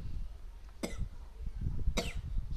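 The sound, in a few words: cough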